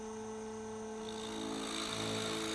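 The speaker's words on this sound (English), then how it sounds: "We drill the hole to our 7/16 depth. It stops." A Voyager DVR drill press runs at a steady motor whine with a hum beneath it, growing a little louder and busier partway through as the bit drills a hole, with no talking.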